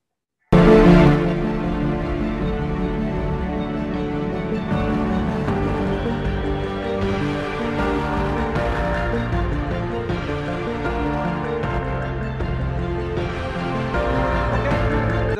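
Slow, melancholy instrumental music plays on its own, with sustained tones and a soft, steady, emotive feel throughout.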